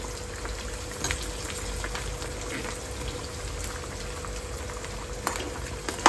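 Bombay duck fish (bombil) sizzling in a pan, a steady close crackle of frying with faint bubbling and occasional small pops, no talking.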